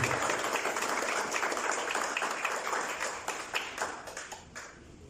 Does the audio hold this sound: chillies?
no